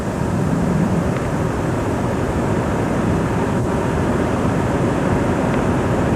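A small airplane skims low over treetops toward a twilight landing, heard as a continuous broad engine drone and rumble mixed with wind buffeting, steady and fairly loud throughout.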